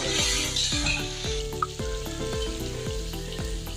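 Masala sizzles loudly in hot oil for a duck curry, a steady bright frying hiss broken by regular stirring scrapes and clatter, close up with no talking.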